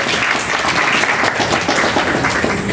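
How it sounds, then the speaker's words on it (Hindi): An audience claps loudly and continuously at a school summer camp closing and prize-giving ceremony, a dense, sustained round of applause from a crowd close by, with no speech over it. "और पूरे समय मेरे साथ मंसूरी जी भी मौजूद रहे, इनके लिए भी जोरदार तालियां।"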